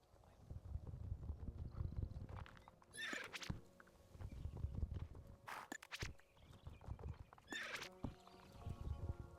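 Horse in a video game clip-clopping its hooves and rearing, with three sharp, loud neighs spaced a few seconds apart over a steady rhythm of hoofbeats.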